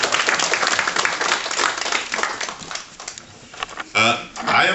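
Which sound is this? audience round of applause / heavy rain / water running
audience round of applause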